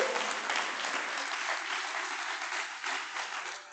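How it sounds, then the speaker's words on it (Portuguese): A church congregation applauds during an evening service, a sustained, even roar of many hands clapping at moderate distance that fades slightly toward the end. "Você pode aplaudir o Senhor essa noite?"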